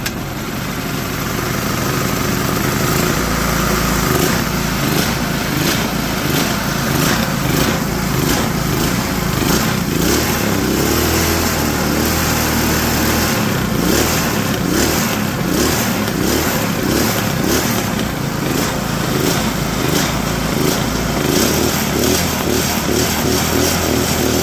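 A small generator engine converted for a go-kart or mini bike runs continuously nearby with a loud, buzzy, lawnmower-like drone and slight fluctuations in speed.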